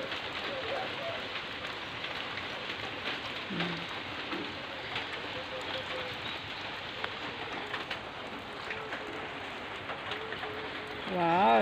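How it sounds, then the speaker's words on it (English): Steady rain patters and hisses continuously across the whole stretch, with faint bird calls in the background and a voice near the end. "it has been raining"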